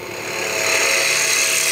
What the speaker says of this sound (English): I'm just doing a little pull cut.